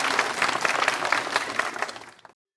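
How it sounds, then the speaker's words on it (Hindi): A crowd claps in applause at a celebration, a dense burst of many hands lasting a couple of seconds before stopping abruptly. "तालियां तालियां।"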